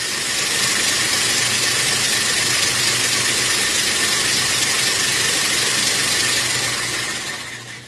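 An engine being spun on a SimTest machine at set RPM, giving a steady, loud, unbroken mechanical hiss and whir with no pauses and no voices.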